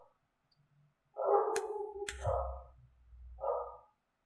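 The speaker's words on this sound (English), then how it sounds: "Can you hear the dogs barking?" Dogs bark a few times at a distance in three short bursts, the middle one doubled, with a low rumble underneath and no talking.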